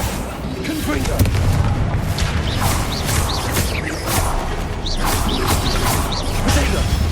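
Confringo spell blasts in the Hogwarts Legacy video game during a dense magical fight, repeated booming explosions and crashing impacts over a constant rumble of combat effects.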